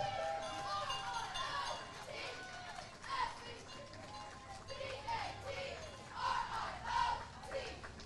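John Jay High School varsity cheer squad performing at an outdoor East Fishkill community day, with rhythmic shouted chants and yells from the group over a steady crowd murmur, rising in bursts of loud cheering.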